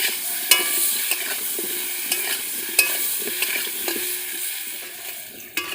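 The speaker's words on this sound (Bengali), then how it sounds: "আলুর উপরে দিয়ে দেব অল্প পরিমাণে লবণ, অল্প একটু হলুদ গুঁড়ো দিয়ে আমি আলুটা ভালোভাবে লাল করে ভেজে নেব" Potato pieces with salt and turmeric sizzle steadily in a pan, with occasional scrapes and clinks of a spatula stirring them. The frying is close and even, and no one speaks.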